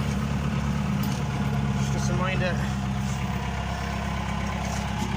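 A John Deere 2140 tractor engine runs steadily at close range with a low, continuous drone, while a voice briefly speaks over it.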